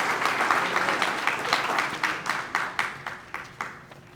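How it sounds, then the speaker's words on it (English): Steady round of applause from an audience at a wrestling hall of fame lifetime service awards ceremony, dense clapping throughout with individual claps popping out near the end as it thins. "one more round of applause for these two fine people here representing their father and late husband"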